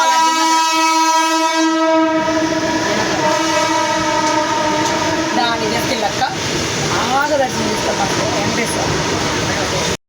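A train horn blares with a long, steady tone over the heavy rumble and clatter of a moving train, loud and close throughout.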